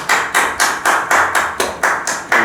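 A church congregation applauding at the end of a worship service, in loud, evenly spaced bursts of roughly four to five per second that sound more like a few people clapping in unison than a large crowd.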